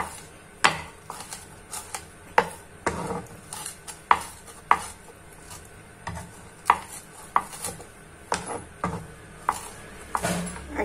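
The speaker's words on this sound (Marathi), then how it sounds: "हे दोन तीन मिरच्या याने आपण चेचून घेऊया" Green chilies being crushed with a pestle, a series of sharp, irregular pounding knocks, fairly close and clear, with no talk.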